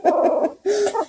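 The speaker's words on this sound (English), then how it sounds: "growly pup right here" A two-week-old beagle puppy makes two short, close, whiny growling vocalizations, one after the other, with no talk.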